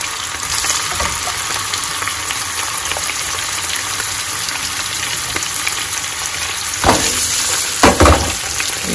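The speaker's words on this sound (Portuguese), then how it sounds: "Gente, eu vou colocar o polvo." Octopus frying in a pan with browned garlic gives a loud, continuous close sizzle and crackle, with a couple of sharper bursts and utensil knocks near the end, no talking.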